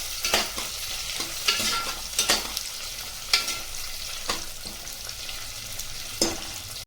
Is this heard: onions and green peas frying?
yes